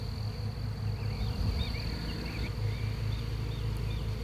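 A honey bee swarm hums in the open air, a dense continuous buzz with individual bees darting past close by, their pitch sliding as they fly around, steady and moderately loud with no voices.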